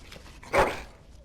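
A short dog whine or yelp in the video game Dragon Age Origins, a single faint canine vocalization rising briefly out of quiet background.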